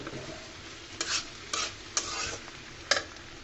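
Onion stalks and egg fry with a handful of coriander leaves stirred in a hot pan: a steady close sizzle broken by four sharp scraping strokes of the spatula, with no talk.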